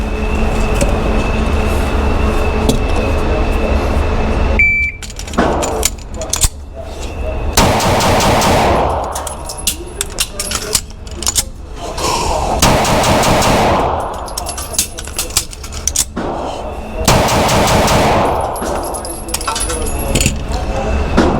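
A Rost Martin RM1C pistol fires strings of shots at a target five yards away, with sharp, loud reports arriving in quick clusters and separated by pauses.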